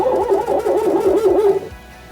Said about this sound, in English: It barks. It definitely barks.